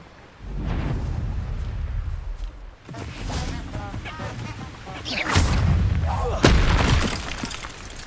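Incendio fire spell cast in the video game Hogwarts Legacy, loud bursting blasts and crashes amid combat effects, with shouted voices over the action.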